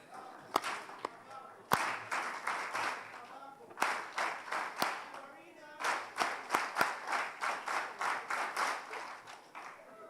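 Audience at an award ceremony in a plenary room claps in a rhythmic, patterned sequence, with sharp single claps at first and then steady synchronized bursts, under some talking.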